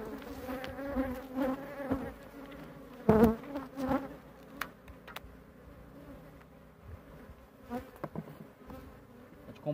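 Honeybees swarm and buzz steadily while a wild colony with very large combs is transferred into a hive on a farm, a close, dense drone with louder passes as bees fly near.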